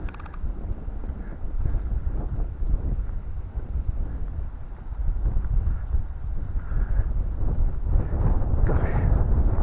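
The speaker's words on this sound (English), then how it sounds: "It's windy." Gusty wind blows outdoors in open countryside, buffeting the microphone with a steady low rumble that strengthens in the second half, with no voices.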